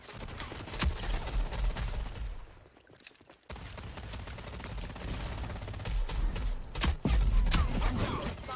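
Gunfire in a ranked match of the shooter video game Rogue Company, rapid bursts of shots with a brief lull midway, close and loud, ending in a heavy burst.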